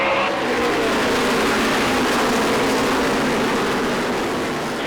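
Close, loud roar of NASCAR stock cars racing at full throttle on the track, a dense continuous engine drone that sweeps steadily past with no talk over it.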